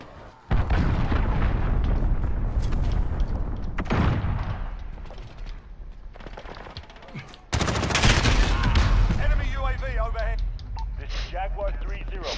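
A cruise missile launches in Modern Warfare multiplayer, sending a loud, heavy blast and roar through ongoing gunfire and explosions, with voices talking over the clamor.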